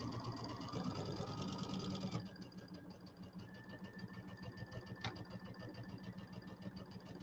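Home sewing machine stitching quilt piecing for a Kimberbell Cutie table topper, a steady rapid mechanical whirr running throughout, louder at first then continuing slightly softer, with no talk.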